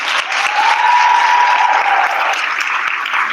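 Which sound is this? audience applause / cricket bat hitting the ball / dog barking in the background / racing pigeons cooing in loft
audience applause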